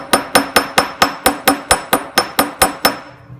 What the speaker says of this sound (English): I can use my hammer, just pressing more at this end and less at that end.